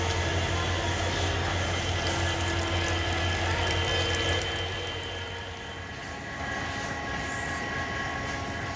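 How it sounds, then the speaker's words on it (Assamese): A train moves through Siliguri railway station with a continuous heavy rumble and hum that dips for a moment midway, then swells again, with no voices over it. "এয়া হৈছে আমাৰ শিলিগুৰি ষ্টেচন চাওক এইফালে ট্ৰেইন গৈ আছে"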